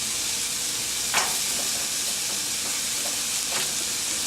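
Corn tortillas sizzle in a little oil in a pan, a steady close frying hiss with a couple of brief louder crackles.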